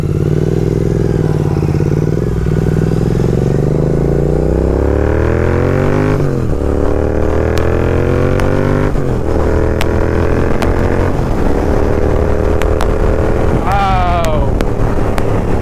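Royal Enfield Interceptor 650 motorcycle converted to Continental GT 650 style, a loud, steady engine and exhaust note that rises in pitch through gear changes, with a few sharp revs and wind noise near the end.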